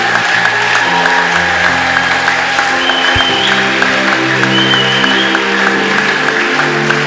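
A church congregation applauds in a steady, dense wash of clapping that fills the hall, with sustained organ or keyboard tones and a voice sounding faintly underneath.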